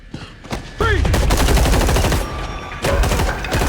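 Gunfire from a shootout in an episode of the Daredevil TV series, dense rapid bursts that are loud and close and run almost continuously, with a brief lull before a fresh volley.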